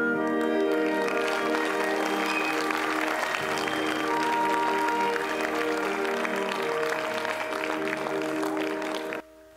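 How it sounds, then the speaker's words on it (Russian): An audience applauds as sustained brass chords ring out; the clapping stays steady and full beneath the music before it cuts off abruptly. "Ваши овации, ваши аплодисменты"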